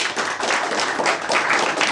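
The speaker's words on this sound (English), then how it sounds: "give a big round of applause for" Dense audience applause after introductions at a colloquium panel, steady close clapping from many hands filling the whole stretch without voices.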